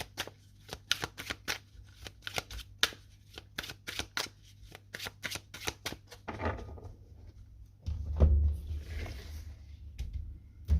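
Tarot cards being shuffled and laid out, a quick run of crisp riffling flicks close up, then softer sliding and tapping as cards are placed on a surface.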